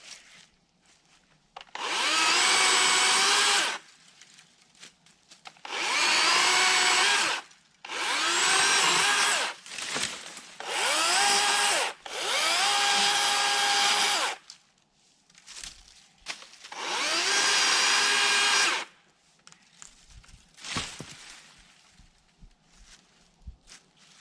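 A small chainsaw with a narrow, small-tooth chain cutting brush while clearing pasture, roaring in about six bursts of a few seconds each, separated by low idling and rustling between cuts.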